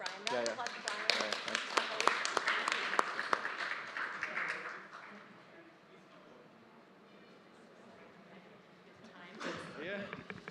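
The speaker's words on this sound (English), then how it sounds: "Round of applause to Brian." Scattered applause for Brian at a side event in a hotel ballroom, sharp individual claps for a few seconds that thin out, then a brief renewed patter near the end.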